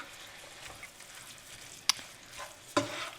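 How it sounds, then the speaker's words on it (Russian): Meat frying in a pan is stirred, with a steady sizzle underneath and two sharp scraping clicks of the utensil against the pan, close and moderately loud, no speech. "Хорошенько мешаем"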